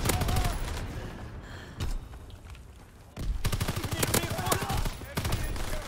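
Automatic weapon fire in the World War II shooter Call of Duty: WWII: rapid, evenly spaced bursts that grow denser and louder in the second half, layered with scattered shots and a background battle din.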